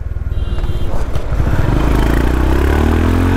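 A Honda CB350 RS motorcycle engine pulls hard through its gear changes, a loud close rumble whose pitch climbs steadily as the bike accelerates, with no talking over it.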